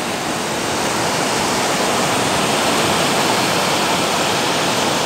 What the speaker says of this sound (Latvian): Maza upīte ietek jūrā